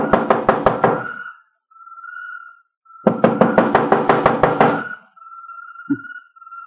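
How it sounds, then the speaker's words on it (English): Two loud bursts of rapid knocking on a door, each about eight quick raps close by, separated by a short pause, with a faint high tone in the gaps. "First time I ever heard of targets knocking on the door."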